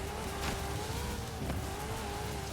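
Racing car engine in the Forza video game, a steady droning hum that rises and falls slightly in pitch, fairly quiet and continuous with no speech.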